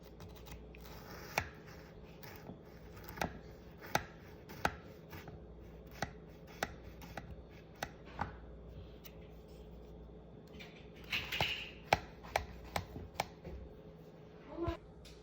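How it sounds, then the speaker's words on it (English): A knife slicing through a freshly baked Jamaican toto coconut cake, a series of distinct sharp taps and cuts spaced a second or so apart, close and fairly quiet against a faint background hum. "the Toto is ready and I'm about to cut."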